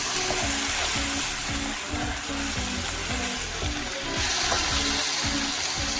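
Spices for a chickpea chana fry in a pan with a splash of water, a steady loud sizzle and hiss with soft rhythmic stirring underneath, close and continuous throughout.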